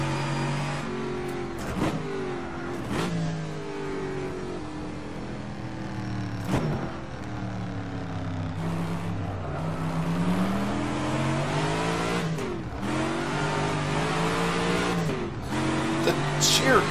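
The V8 engine of an AC 427 Shelby Cobra in the rFactor 2 racing game revs up and down repeatedly, rising and falling in pitch with sharp gear changes, loud under intermittent talk.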